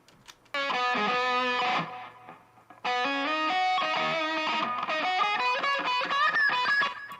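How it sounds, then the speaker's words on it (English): Distorted electric lead guitar with an Echo Boy delay effect plays two melodic phrases of sustained and rapid notes, each trailing off into repeating echoes, loud and up front with no talking. "The next thing I did was I added a delay"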